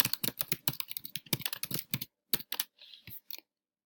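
Typing on a computer keyboard as an article title is entered, with quick, close key clicks in bursts that pause briefly and then resume with a few final taps.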